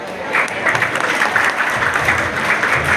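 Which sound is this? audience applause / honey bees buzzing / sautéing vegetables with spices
audience applause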